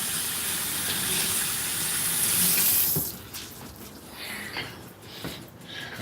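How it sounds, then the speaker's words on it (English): A soapy rag is rinsed under a running faucet, a loud close gush of water that cuts off after about three seconds, followed by quieter dripping and wringing splashes. "Take this wet rag. It's got soap on it though. Rinse it out real good."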